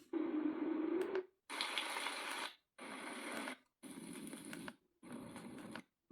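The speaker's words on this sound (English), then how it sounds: "Different white noises." A white noise machine alarm clock cycles through several white noise settings, each a steady hiss with a distinct tone, separated by brief silences as the sound switches.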